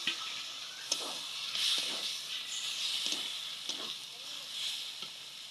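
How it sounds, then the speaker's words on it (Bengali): Washed, cut chicken pieces go into hot oil spiced with cumin powder and sizzle steadily, with crackling bursts and stirring scrapes close by. "ধুয়ে কেটে রাখা মাংস দিয়ে দিচ্ছি এখন।"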